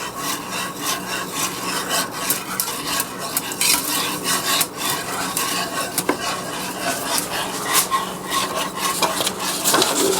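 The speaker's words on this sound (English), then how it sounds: "Never stop stirring or the milk will burn." A spoon stirs melting butter and milk in a pot for egg custard pie, making continuous close scraping and rubbing against the pot bottom with faint sizzle underneath, no voices.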